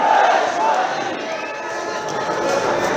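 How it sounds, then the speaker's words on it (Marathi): Loud crowd at a village sports match, Vadal Kharikwada versus Vaysut Odhangi, roaring and cheering in a sustained swell of mixed voices that stays dense and close throughout. "आपण इथं आवाज जल्लोष देऊया की जायचा जोरात सर्वांनी जल्लोष द्यायचा आहे"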